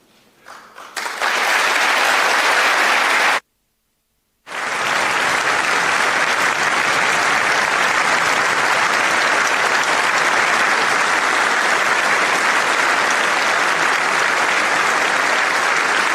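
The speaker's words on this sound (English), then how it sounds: "Yes, lots of applause, and rightfully so" Sustained audience applause after a speech, loud and dense clapping that builds quickly, cuts out briefly, then resumes as a steady unbroken roar of hands for over ten seconds.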